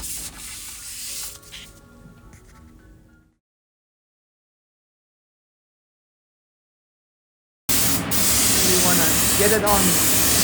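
Primer being sprayed onto a Moto Guzzi Mk1 motorcycle part, a steady loud hiss that bursts in after a stretch of silence and runs unbroken to the end, following a short quieter passage.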